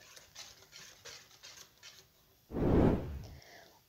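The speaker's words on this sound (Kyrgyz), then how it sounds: "Кумшекер эрип, массабыз аппак болуп көрүнгөнчө аралаштырабыз." Sugar being stirred into a honey cake mixture in a bowl, a soft intermittent scraping and swishing, then a louder close burst of stirring near the end.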